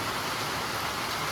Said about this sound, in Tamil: மழையை பாருங்கள் என்ன மாதிரி ஒரு மழை அடிக்குதுன்னு.